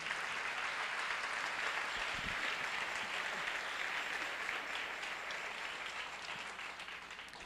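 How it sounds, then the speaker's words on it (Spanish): A church congregation claps steadily after a sermon, a broad, even wash of many hands in a reverberant space, holding for several seconds and fading slightly at the end. "Un aplauso al Señor."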